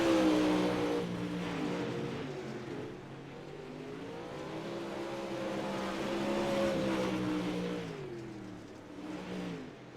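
Race car engines roar in a racing video game, several revving and whining together as pitch rises and falls in waves, steady and fairly loud with no talk.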